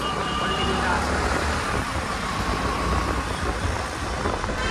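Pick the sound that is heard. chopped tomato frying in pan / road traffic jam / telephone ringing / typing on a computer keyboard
road traffic jam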